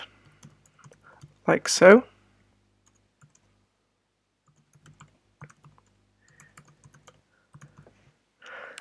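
Light clicks of typing on a computer keyboard, scattered and quiet through the clip, while someone says a few words near the beginning.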